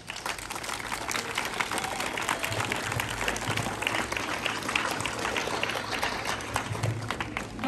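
Steady, dense applause from a school audience at a year-end closing ceremony of a high school, sustained and fairly loud throughout, with no break.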